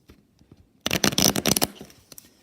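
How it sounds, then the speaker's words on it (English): A deck of playing cards being shuffled during a tabletop wargame, a dense papery riffle burst lasting under a second after faint handling sounds, then settling into soft rustles. "I gotta shuffle"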